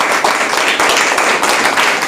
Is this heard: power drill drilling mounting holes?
no